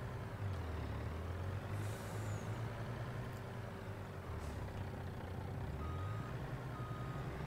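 A truck in the Farming Simulator 22 game backs up with a steady engine drone and faint reversing beeps, plus a brief hiss of air brakes, heard at low volume throughout.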